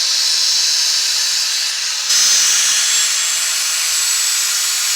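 Cutting through a compressed coil spring on a Datsun 240Z rear end during a coilover install, a loud steady hissing grind that runs continuously and grows harsher partway through, with no talking.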